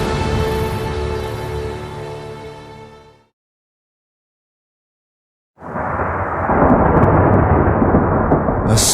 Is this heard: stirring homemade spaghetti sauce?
no